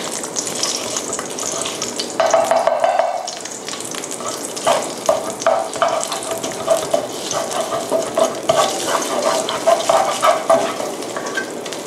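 Curry paste stir-fried over low heat for pork belly with long beans, making a loud, continuous sizzle broken by repeated scraping and tapping of a spatula against the pan. No one speaks.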